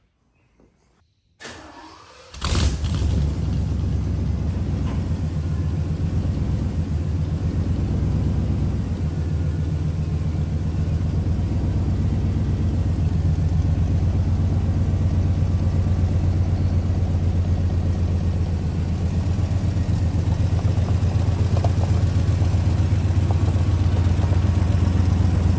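An OBS Chevy pickup with a swapped 5-speed manual transmission starts up and drives steadily down the road, engine droning loudly and continuously with low rumble as it runs through the gears, no talking.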